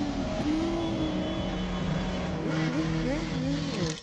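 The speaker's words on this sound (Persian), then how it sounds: "دوستانش گاز موتور را فشار دادند" Motorcycle engine being revved hard during a bear encounter, a loud rising and falling whine with shifting pitch that carries on throughout, with what may be voices mixed in underneath.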